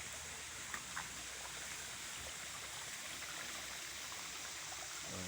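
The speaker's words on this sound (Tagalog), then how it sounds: "Dito sa talon." A stream below a waterfall rushes in a steady, even hiss of flowing water, moderately near and uninterrupted, with no voices.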